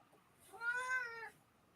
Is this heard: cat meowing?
yes